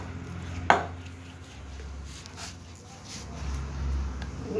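Knife chopping through dough for semai pitha on a board, one sharp cut early then softer scraping and handling sounds, close and fairly quiet, with a low background hum.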